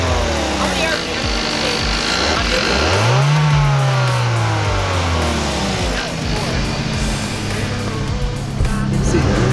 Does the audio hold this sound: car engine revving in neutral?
yes